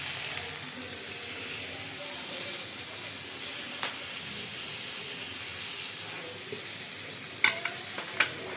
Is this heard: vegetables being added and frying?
yes